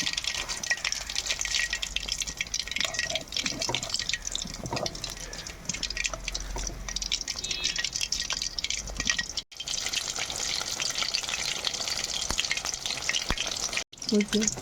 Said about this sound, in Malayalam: ചെറുതായിട്ട് മീഡിയത്തിലിട്ടിട്ട് വേണം ഇത് പൊരിച്ചെടുക്കാനായിട്ട്